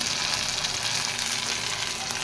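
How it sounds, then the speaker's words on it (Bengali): Tomato frying in hot oil with browned garlic, a dense steady sizzle that stays close and loud from start to finish with no voices. "টমেটোটা ভালো করে আমি ভেজে নেব, যেন কাঁচা গন্ধ না থাকে টমেটো।"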